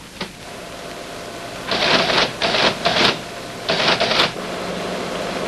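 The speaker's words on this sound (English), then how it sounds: "Turn on the teletype and try typing it in." A teletype clatters as a BASIC program is keyed in, with short bursts of rapid mechanical typing broken by brief pauses, loud and close against a quiet room hum.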